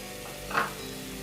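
Spices with kasuri methi, salt and coriander powder sauté in oil for a dhaba-style mushroom masala gravy, a soft steady sizzle with one brief louder stir, no talking.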